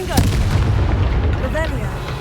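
The Confringo spell fires in Hogwarts Legacy, a loud, close blast with a booming, artillery-like crack, followed by whooshing magical tones and a rumbling tail.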